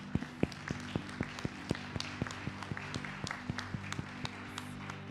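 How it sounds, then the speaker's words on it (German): A church congregation applauds in a worship service, a steady patter of hand claps with sharp individual claps standing out over a low sustained hum, continuing evenly throughout. "Lass mal Jesus einen Applaus geben einfach."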